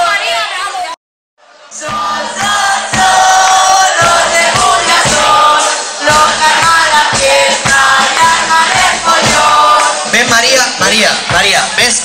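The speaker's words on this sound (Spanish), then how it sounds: "Ese fuerte aplauso para María, fortísimo aplauso." Studio audience on a Spanish TV variety show cheers and applauds loudly for a singer, a dense sustained crowd roar with whoops, after a brief silent gap near the start.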